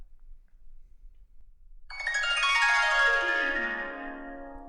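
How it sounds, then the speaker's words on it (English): A shimmering harp glissando sound effect, called Back in Time Harp, sweeps downward in a cascade of bright plucked notes, fairly loud and alone after a quiet start. "that is the YouTube sound effect called Back in Time Harp"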